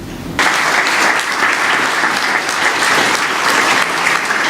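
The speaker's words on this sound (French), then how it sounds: "j'aimerais bien vous demander de vous applaudir tous" An audience at the Ejo Heza Excellence Prize 2018 ceremony breaks into sudden applause, a full, loud burst of many clapping hands that stays steady and dense throughout.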